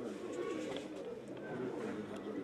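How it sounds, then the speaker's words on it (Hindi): Pigeons of a prized show breed cooing softly in a loft, a low continuous murmur of coos under someone speaking Hindi nearby. "मुख्तार वाले कबूतरों में से है, बेगे वाले मुख्तार जी, ये धन्य वाले कबूतर भी यही है जी"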